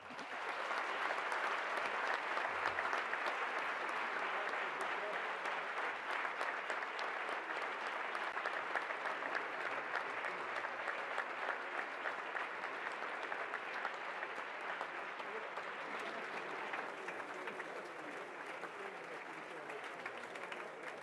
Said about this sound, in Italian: ancora un applauso al Presidente della Banca Centrale Europea, Mario Draghi